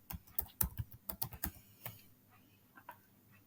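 Quick keystrokes on a computer keyboard: a burst of about a dozen close, crisp clicks, then a pause and a few more soft taps, with no voice.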